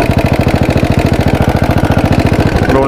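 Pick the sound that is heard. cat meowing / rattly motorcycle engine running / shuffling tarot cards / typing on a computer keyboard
rattly motorcycle engine running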